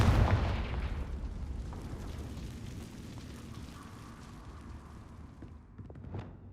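A Confringo blasting spell in the Hogwarts Legacy video game: a loud booming burst at the start that decays into a rumbling tail, followed by faint magical swishes and a smaller pop near the end.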